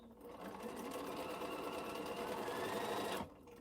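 Sewing machine running steadily while stitching quilt pieces together, a close, fast whirring hum that stops abruptly near the end.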